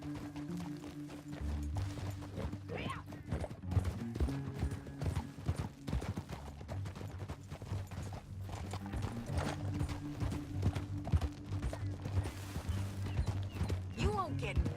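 Horse hooves clip-clop steadily in Red Dead Redemption 2, with a whinny and creaking tack, under a low music bed and occasional voices.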